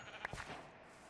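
A sheep in a video game lets out one short, faint bleat, followed by quiet background.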